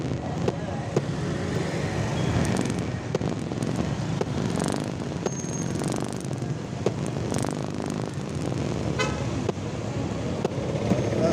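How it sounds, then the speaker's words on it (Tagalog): Dense, continuous road traffic noise at a busy Philippine roadside near a mall, with occasional short car horn toots and scattered sharp pops over a steady low rumble, with people chatting faintly in the background. "Traffic, traffic, traffic."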